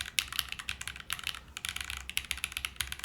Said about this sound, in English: I would say this is a very, very soft typing experience.